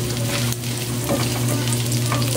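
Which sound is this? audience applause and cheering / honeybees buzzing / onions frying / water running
onions frying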